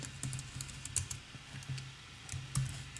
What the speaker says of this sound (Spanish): lo primero que vamos a hacer es teclear aquí